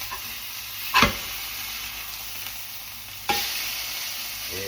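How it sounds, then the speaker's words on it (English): Oklahoma onion burgers sizzle steadily in a small pan, with two sharp scraping clatters of a spatula as the patties are flipped over the continuous frying hiss. "now I'm going to flip these burgers, which is a little bit of a trick in a small pan here"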